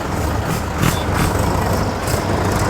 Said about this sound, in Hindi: तो अब हाई गियर में ही हम इस ट्रैक्टर को पीछे की ओर करेंगे